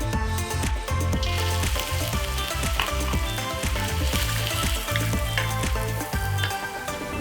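Ginger and garlic fry in hot oil in a pan, a loud, dense sizzle with a crackle that never lets up, stirred now and then with soft scraping, and nobody speaking.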